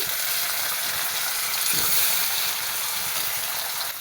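Ginger, green chili and tomato sizzle in a pan for a Bombay chutney, a steady bright hissing fry that runs evenly throughout at moderate loudness, with no voices.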